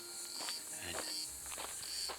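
Cicada-like insects buzz and chirp in a steady, rasping outdoor chorus in the sunny interior of Rhodes island, with faint footsteps crunching along underneath.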